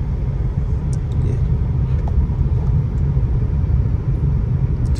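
A car engine runs in third gear during a driving lesson on a road, giving a loud, steady low rumble from inside the cabin, with faint rattles and no talk.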